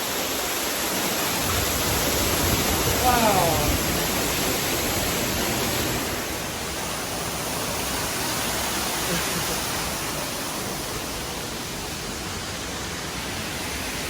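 Waterfall at Disney's Animal Kingdom in Walt Disney World, a loud, steady broadband rush of falling water that fills the whole scene, with a brief exclaiming voice over it early on.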